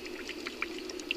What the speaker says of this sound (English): That's gas coming up right there.